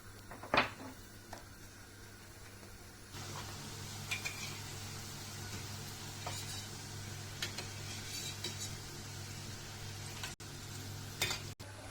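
Dough frying in hot oil sizzles and crackles steadily at a fairly quiet level, with a few sharp clinks of a utensil against the pan, and no voices.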